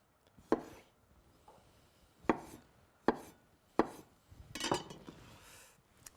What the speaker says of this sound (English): So cut up our beets.